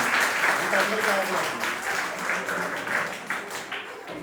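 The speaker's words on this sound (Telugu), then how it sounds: "ఆకలి వేసిన వాళ్ళు ఇంకా గట్టిగా కొడదాం" A church congregation at an anniversary worship service claps together, a dense steady wash of applause lasting throughout with a voice talking over it.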